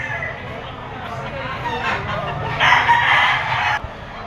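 A rooster crows at a poultry auction market, a drawn-out call rising above a busy, noisy crowd with people talking throughout.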